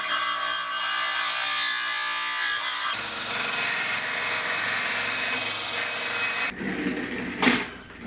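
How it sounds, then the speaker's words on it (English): Disc sander and belt sander smoothing a rounded wooden edge in a woodshop, a steady loud motor whine with abrasive rubbing that shifts tone partway through, then a brief surge and cut-off near the end. "I'm just going to get my disc sander and my belt sander out and smooth that over"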